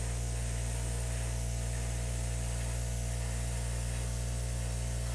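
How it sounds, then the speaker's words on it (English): Continuous hiss of an airbrush spraying paint, a steady unbroken spray over an electrical hum, close and even for the whole span. "So let's hit this with the airbrush real quick."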